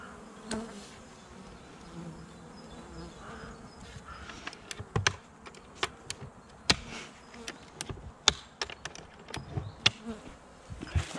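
Honeybees hum softly in an open hive during a February winter inspection, a faint steady drone broken by scattered sharp clicks and taps, fairly quiet and close.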